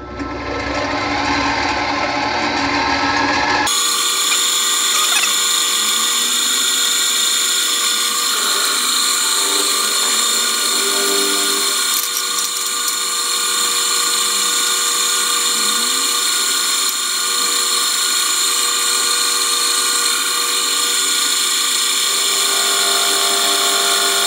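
A homemade boring head with a gib skims a thin layer of metal on a machine, giving a steady, loud, high-pitched machining whine that runs without a break after a short rougher start, with no voices.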